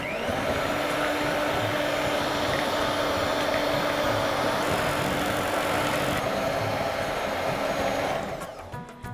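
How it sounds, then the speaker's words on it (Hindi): An electric beater whips eggs and sugar into cake batter, a loud, steady motorized whine with a constant hum that holds for several seconds before winding down and stopping near the end. "चीनी को भी मैं इसमें अच्छी तरीके से बीट कर लूँगी"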